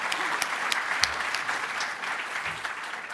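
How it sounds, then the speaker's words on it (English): A short burst of audience applause at a Python education conference keynote, many hands clapping steadily for a few seconds, fairly close and without talk. "so I think we should give you another round of applause"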